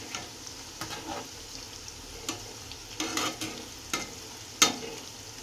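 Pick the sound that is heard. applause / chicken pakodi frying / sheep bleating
chicken pakodi frying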